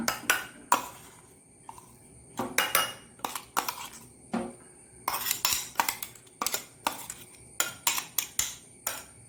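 Ingredients get mixed in a bowl with a spoon, giving irregular bursts of clinking and scraping against the sides, close and fairly loud, with short pauses between strokes and no voices.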